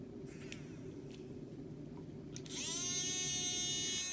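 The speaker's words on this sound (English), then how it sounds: "You can hear that motor start to spin really, really fast." Steady low hum with faint clicks, then a small battery-powered electric motor whirs up to a high, fast spin that holds steady, close and fairly quiet.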